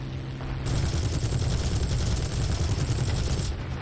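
Aircraft cannon fire in the War Thunder flight game, a sustained rapid burst of loud, dense rattling shots lasting several seconds over steady engine drone.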